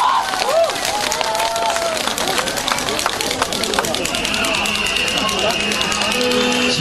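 Concert audience at a fan tribute show in Xiangshan, Ningbo, applauding and cheering as a performer is called to the stage, a dense continuous wash of clapping and crowd noise with scattered voices throughout.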